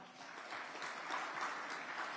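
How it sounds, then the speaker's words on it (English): An audience at a Forbes India small business summit in Chennai applauds successful entrepreneurs, steady clapping that swells slightly and holds at moderate loudness, heard from a distance in a large hall. "A huge round of applause"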